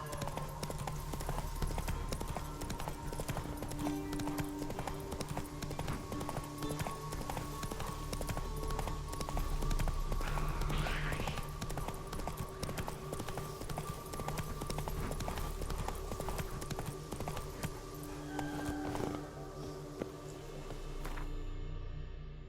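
The horse Roach gallops in The Witcher 3: Wild Hunt, giving a steady run of rapid hoofbeats across the whole stretch, with a brief whinny and faint ambient game sounds underneath.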